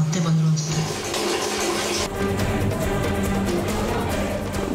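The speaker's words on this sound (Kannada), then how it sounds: "ನೀರು ಶಬ್ದ ಕೇಳಿಸ್ತಿದೆ" Running water gushes steadily at a fairly loud level throughout a household scene, with voices talking over it.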